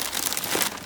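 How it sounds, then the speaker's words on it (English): Plastic packaging crinkles and crackles at close range as a retract unit for a Top Flite P-47 RC plane is unwrapped, a dense, steady rustle lasting under a second with no talking. "I'll go ahead and unwrap the"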